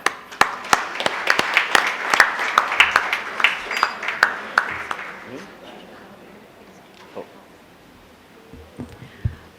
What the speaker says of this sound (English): So, let us clap.